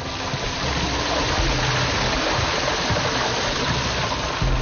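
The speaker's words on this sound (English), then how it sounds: "we can hear the running water and smell the sulfur" Steady running water from a hot spring cascading over natural rock pools in a forest near the sea, a continuous broadband rush that stays loud and even throughout with no voices.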